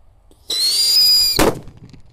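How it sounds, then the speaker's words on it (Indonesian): A Happy Power 3 firecracker set inside a hole in the ground hisses loudly with a bright fizzing fuse for nearly a second, then bursts in one sharp, close explosion that quickly fades, with no voices. "Kali ini ada mercon Happy Power 3. Ini yang lebih banter."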